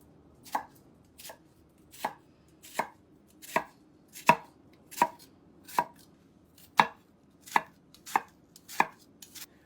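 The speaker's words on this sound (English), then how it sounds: "I'm going to use the tip of the knife, cut to the back, but not through the back." A knife chops into an onion on a cutting board, about thirteen crisp, evenly spaced thuds in a steady rhythm, close and clear over a quiet room with no voices.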